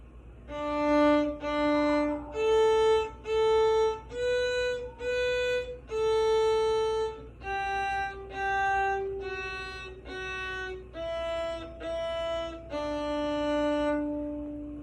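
A violin plays the first two lines of Twinkle, Twinkle, Little Star, slow separate bowed notes, some repeated in pairs, clear and close with no accompaniment.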